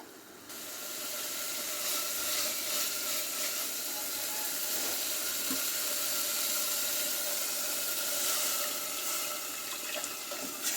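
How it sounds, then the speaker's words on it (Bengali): Water poured into a pan of fried fish curry masala, a steady hissing, rushing pour with faint sizzling, continuous and fairly close, no talk. "এবার আমি পরিমাণ মতো ঝোলের পানিটা দিয়ে দিলাম"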